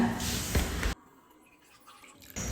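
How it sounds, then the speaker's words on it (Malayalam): Water splashes steadily into a cup for about a second, then stops, leaving quiet room noise before a brief burst of sound returns at the end. "ഇതാ ഞാൻ ഈ സെയിം കപ്പിൽ തന്നെ വെള്ളം ഒഴിക്കുന്നുണ്ട്."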